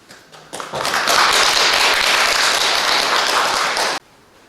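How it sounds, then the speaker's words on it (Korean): A church congregation applauds to welcome a speaker, a dense, steady burst of many hands that swells in quickly, holds loud and even for about three seconds, then stops abruptly. "우리 나올 때 박수로 맞이해 주시기 바랍니다"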